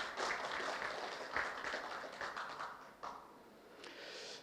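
Scattered, fairly faint clapping from a seated audience at an academic colloquium, individual claps audible in loose bursts that thin out toward the end.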